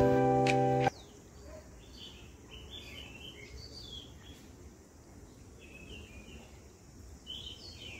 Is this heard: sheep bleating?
no